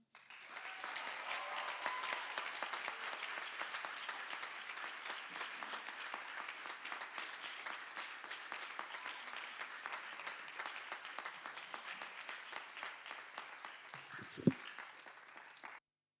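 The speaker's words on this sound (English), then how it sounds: "one more round of applause for Mr. Kenneth Paul" Long, steady applause from a graduation audience, a continuous even roar of many hands clapping at moderate distance that carries on for more than fifteen seconds before a brief thump near the end.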